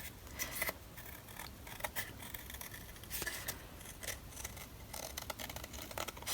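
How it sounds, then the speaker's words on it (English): A small pair of scissors trimming paper close to the edges of a decorative coaster, giving a steady run of quick, crisp snips and light scraping, close up and fairly quiet, with no talking. "I'm going to use a smaller pair of scissors for this, and I'm just going to trim as close to the edges as I can get."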